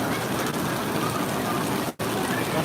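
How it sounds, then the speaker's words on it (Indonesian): Rain falling steadily, a dense continuous hiss that fills the whole clip with a brief dropout near the end. "Masih hujan ya di sini ya."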